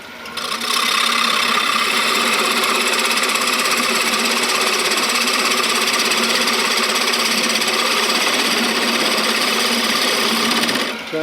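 A power sander grinds steadily against a wooden spoon while it is bevelled, keeping a loud, continuous abrasive whir for about ten seconds. The sound starts abruptly and cuts off at the end.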